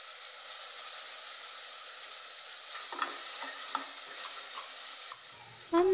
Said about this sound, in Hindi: अब मैं इसमें स्पाइसेस ऐड करूंगी।